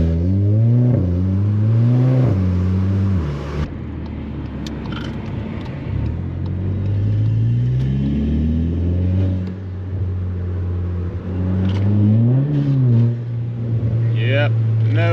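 Stage 2 VW Polo GTI accelerating hard at night, engine revving up and dropping through gear changes as the wheels lose grip, loud from inside the cabin with a person talking over it.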